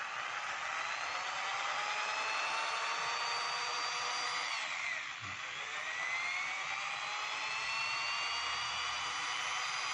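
A power drill running from an 800-watt pure sine inverter whines steadily, its pitch dipping briefly midway as the motor slows, then climbing again.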